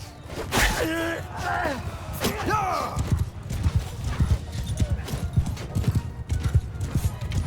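Horses in a Mount & Blade II: Bannerlord battle give sharp whinnies and snorts early on, followed by a rapid, uneven clatter of hooves and combat impacts, with a voice speaking over parts of it.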